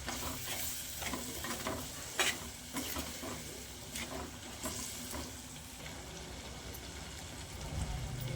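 A beans and egg curry, with ginger just added, is stirred in a pan: a faint, steady sizzle with soft scraping strokes and a few light clinks, quiet and close.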